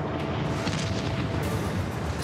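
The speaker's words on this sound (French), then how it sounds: "c'est l'éruption." A volcanic eruption sound effect for the ancient city of Pompeii: a loud, continuous roaring rumble with dense low booms that never lets up, with no voices.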